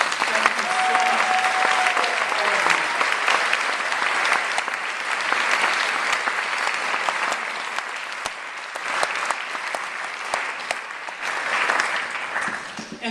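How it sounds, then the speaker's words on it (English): Sustained audience applause from a large crowd at a closing event, steady and dense clapping throughout with no break. "So a huge round of applause for those supporters."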